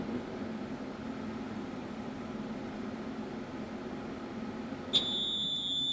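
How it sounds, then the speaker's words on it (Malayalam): A fuel-saving hydrogen machine for vehicles hums faintly until its timer alarm cuts in near the end with a sudden high-pitched electronic tone that holds steady. "അലാം അടിക്കും"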